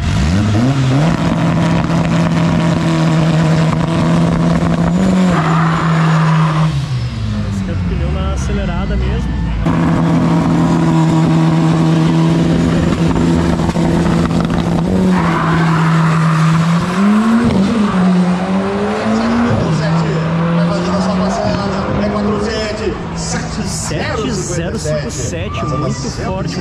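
A no-prep drag race car roaring down the track at Tarumã, loud engine tones rising and shifting, with tire squeal, as excited commentators talk over it throughout.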